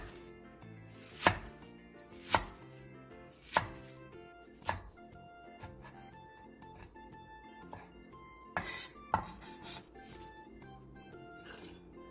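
A knife cuts chives into short lengths on a cutting board, about ten crisp chops at irregular intervals, close and alone.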